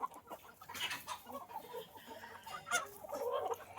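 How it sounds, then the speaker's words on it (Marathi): Native free-range village chickens cluck and squawk in scattered bursts, fairly close, with a busy flock murmuring in the background. "मस्त मोठ्याल्या कोंबड्या आहेत छोट्याल्या कोंबड्या आहेत"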